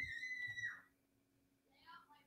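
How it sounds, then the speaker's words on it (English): A child's high, thin scream rings out briefly over a background of low voices, then fades, with another faint, wavering cry following moments later. "if you guys heard that scream"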